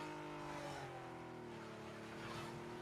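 A video game car engine drones steadily with shifting revs and tire noise for several seconds, continuous and moderately loud with no voices over it.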